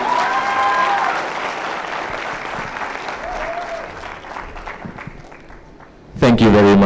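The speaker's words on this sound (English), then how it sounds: "Round of applause for that team." Steady audience applause for a team of young scientists at a national science exhibition award ceremony, filling the room for about six seconds, thinning slightly before a loud burst of music or cheering cuts in at the end.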